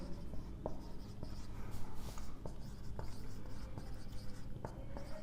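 Chalk or marker writing prime factors on a board for a maths lesson, giving a run of scratchy taps and short strokes at a steady pace, close and moderately loud with no talk.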